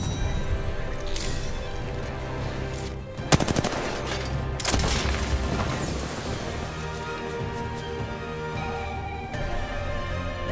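Gunfire in Apex Legends: rapid automatic bursts and sharp shots crackle close and loud over a busy game backdrop, with a dense cluster of cracks partway through and a musical tone bed underneath.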